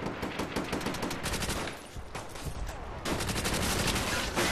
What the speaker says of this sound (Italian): E lui mi spara un colpo!